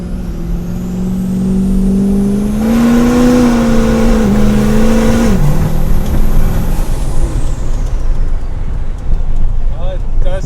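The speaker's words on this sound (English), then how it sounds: "It's definitely spinning the tires instead of bouncing the tires." A 1,000 horsepower truck fitted with traction bars accelerating hard and spinning its tires, a loud rising engine roar that climbs, holds and then drops away, heard from inside the cab with a constant rumbling background.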